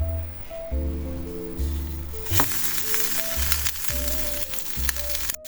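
Butter sizzles and fries steadily in a pan for brioche French toast, a loud continuous crackling hiss with a few scraping and stirring noises, while a low hum runs beneath and no one speaks.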